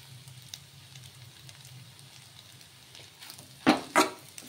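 Egg and meal maker (soya chunks) fry in a pan with a faint, steady crackling sizzle, and two sharper scraping clatters come near the end.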